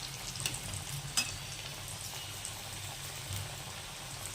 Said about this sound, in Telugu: ఇలా డీప్ ఫ్రై చేసేసుకోవడమేనండి